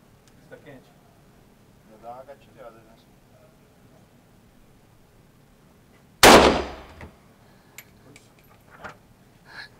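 A single loud AK-47 rifle gunshot cracks sharply and rings out, with a brief decaying echo, amid quiet background and faint distant voices before and after.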